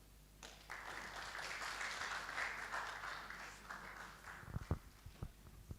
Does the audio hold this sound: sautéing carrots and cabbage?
no